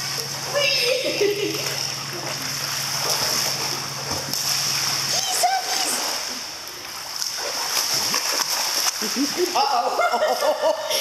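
A small toy poodle swims in water alongside other dogs, making repeated splashes and sloshing that rise and fall, with people talking nearby.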